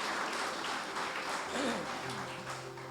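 Sustained applause from a crowd, a dense clapping wash that swells slightly in the middle, with faint voices underneath.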